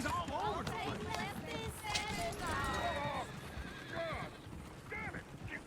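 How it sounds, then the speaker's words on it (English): Horses neigh and whinny in the Western video game Red Dead Redemption 2, several calls rising over clattering hooves and background noise while someone talks excitedly. "Oh, shit, the horses! Damn horses!"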